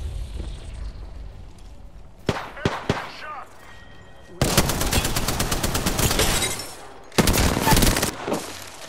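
Bursts of gunfire in the video game Apex Legends: a few sharp single shots, then two long rapid automatic volleys, loud and close.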